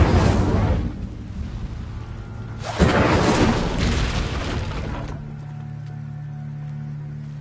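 An Incendio fire spell blasts in the Hogwarts video game: a heavy, roaring fiery whoosh, then a second loud burst swells midway before fading into a low hum.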